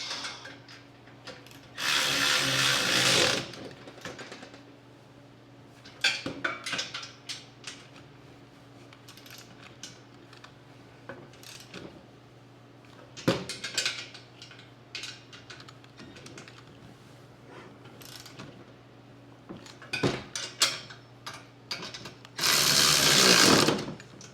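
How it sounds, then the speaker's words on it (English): Ratchet tightening a bolt on a Harbor Freight cargo carrier, with bursts of rapid clicking ratcheting and occasional sharp metallic knocks spread over a quiet background. "Now we can go ahead and tighten down the t'other bolt"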